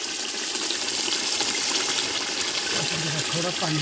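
Water poured into a pot of mutton cooking for a party, a loud steady gushing pour that runs the whole time, with a voice speaking faintly under it near the end.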